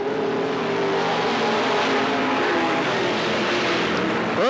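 Modified race cars roar together at the start of a main event at Riverside Speedway (Cottage Grove Speedway), a dense, loud, continuous engine drone with one car revving up sharply at the end.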